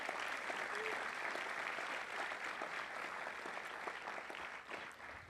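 A church congregation claps steadily and fairly loudly throughout a sermon, a dense, continuous applause with no break.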